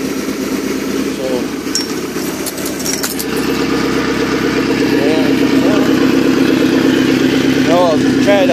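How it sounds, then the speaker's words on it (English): A 1988 Larson boat's OMC 3.0 120-horsepower engine idles in a steady, continuous low drone, running close by with a loud, even tone throughout. "let the engine run for a couple hours"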